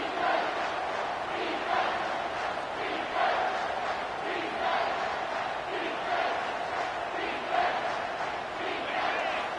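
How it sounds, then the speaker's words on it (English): Stadium crowd in the 2K25 football video game roars steadily during a red-zone defensive stand, a dense continuous wash of cheering with rhythmic swells every second or so. "And the crowd coming to life here, trying to help this defense down in the red zone."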